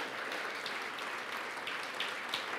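A church congregation claps together in sustained, dense applause at steady volume, with no voices standing out above it.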